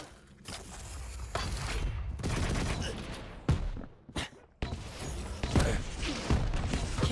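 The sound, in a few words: rocket launcher fire in video game Quake Champions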